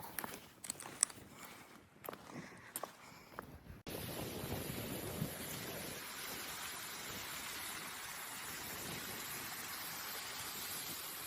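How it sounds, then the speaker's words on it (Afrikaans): Strong wind buffets the microphone in long steady gusts while someone rides the last two kilometres of a long cycling event, a roaring rush that swells after a quieter, choppier opening. "Wind is erg."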